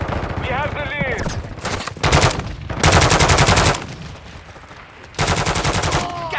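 Automatic gunfire in Call of Duty: Modern Warfare II, repeated loud bursts of rapid machine-gun fire with short gaps between them and brief shouted voices between bursts.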